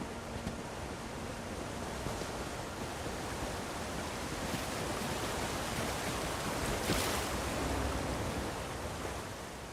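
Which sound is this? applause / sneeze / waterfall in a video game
waterfall in a video game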